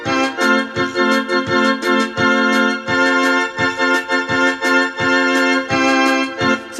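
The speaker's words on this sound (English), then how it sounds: "So I have recorded my piano here." Recorded piano playing a Catholic hymn melody with chords, a steady sequence of clear, evenly paced struck notes and chords, close and fairly loud with no voices.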